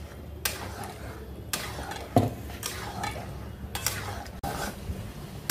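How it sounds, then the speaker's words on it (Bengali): A spoon scraping and stirring thick jackfruit seed dal in a kadai, with close, repeated metallic scrapes and knocks against the pan in an uneven rhythm. "এখন কিন্তু সমানে নাড়তে হবে।"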